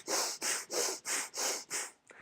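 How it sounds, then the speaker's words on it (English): Six forceful rhythmic breaths from a breathing exercise, each a loud airy rush of even length, evenly spaced, heard close up and alone, trailing off into a softer final breath. "the first thing I do is I do the breathing exercises where you're like"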